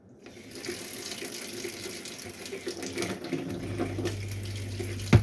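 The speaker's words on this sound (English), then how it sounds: "We've got hot water coming out the taps" Hot water gushes from the bathroom taps of a Sprite Quattro DD caravan in a steady, close rushing stream, with a low hum rising near the end.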